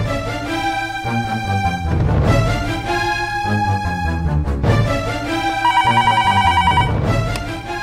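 A telephone rings while a call is placed to a town police station in a Telugu TV drama, the ringtone loud and close, repeating in melodic bursts over a dramatic music bed.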